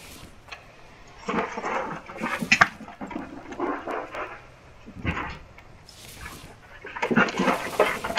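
Dogs in the survival video game The Infected, with repeated barks and yelps coming in uneven bursts across the clip and a low background hum beneath them.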